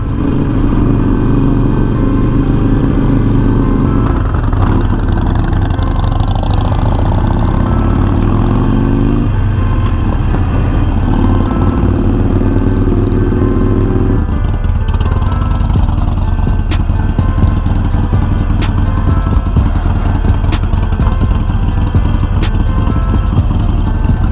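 Harley-Davidson Iron 1200 motorcycle fitted with Vance and Hines slip-on exhausts idles steadily, a loud, close, continuous low rumble with slight rises in revs, no talking.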